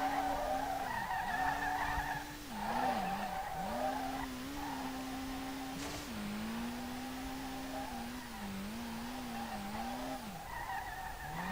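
Tires squeal continuously as a car drifts in Street Legal Racing Redline, a Nissan R32 built to FD/D1GP spec, with the engine note and skids rising and falling in long wavering sweeps and no talking.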